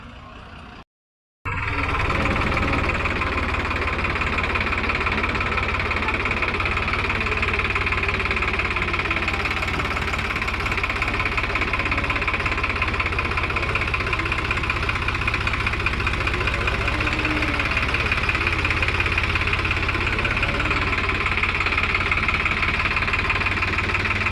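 The engine of a Farmtrac 60 tractor pulling an empty trolley runs steadily and loudly for a long stretch after a brief gap, a close, continuous mid-pitched drone with a knocking rattle and no speech.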